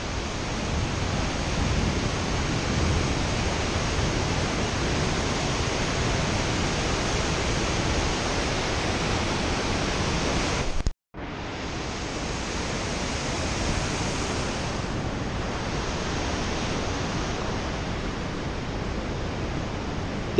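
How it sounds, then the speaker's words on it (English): Brekkefossen waterfall beside the Flåm railway in Norway, a loud, dense, unbroken roar of falling water that runs steadily throughout, with one brief cut to near silence partway through before the rush resumes. "One of the highlights of the Flåm railway journey is the stop at the magnificent BREKKEVOSSEN waterfall."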